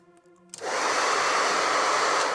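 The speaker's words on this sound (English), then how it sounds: "And then we're gonna hit it with the blow dryer." A blow dryer switches on at full power to dry paint on a Warhammer miniature, a sudden loud, steady whooshing roar that holds unbroken after a brief quiet start.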